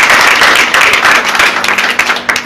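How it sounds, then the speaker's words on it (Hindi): Loud, dense applause from a crowd at a business marketing meeting, steady clapping filling the whole stretch with a few sharper claps near the end. "हम चाहेंगे जोरदार तालियां हो जाए।"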